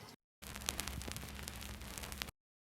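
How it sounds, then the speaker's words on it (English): A vinyl crackle sample used as a texture plays as a quiet, steady hiss dotted with irregular pops and ticks for about two seconds, then stops abruptly. "texture number 3 is actually a vinyl crackle sample"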